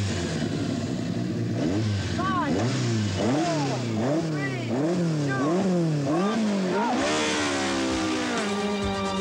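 A rally car revs hard and pulls away at the start of a forest rally stage, its engine climbing through repeated gear changes in a loud, close series of rising and falling whines.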